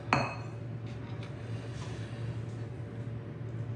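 A bowl set down with a sharp clink on a kitchen counter, followed by steady low kitchen hum and faint light handling noises.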